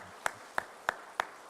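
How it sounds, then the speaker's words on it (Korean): Four sharp, evenly spaced claps in a church service, each a crisp isolated hit against a quiet room, sounding like a single person's hands rather than a full congregation. "우리 자녀를 주신 하나님께 영광의 박수"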